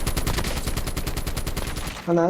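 Rapid automatic gunfire from a COD Mobile battle royale match, a dense, loud burst of repeated shots lasting about two seconds before cutting off into a short in-game tone.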